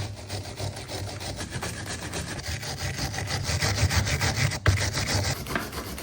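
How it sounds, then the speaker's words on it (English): A brush scrubs debris off a BMX bike chain with quick, steady back-and-forth rubbing strokes, close and continuous, and a single sharp knock near the end. "Once you have finished scrubbing the chain"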